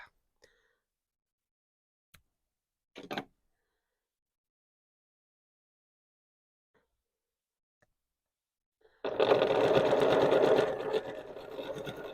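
A sewing machine stitching single fold quilt binding runs in one steady burst of fast whirring near the end, close and fairly loud, preceded by long quiet with a few small clicks and handling taps.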